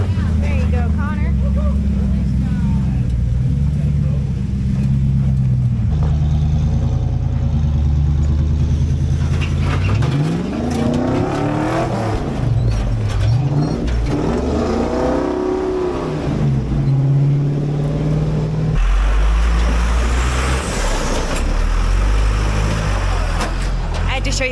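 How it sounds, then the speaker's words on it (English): A Jeep CJ10 fitted with a Cummins diesel rumbles and revs nearby, its low, steady engine drone running under people talking throughout. "that one's a super rad CJ10 with a Cummins diesel"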